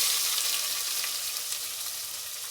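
Onion hisses and sizzles steadily in hot oil in a pan while cooking dal khichdi, a dense, continuous frying crackle with no voices.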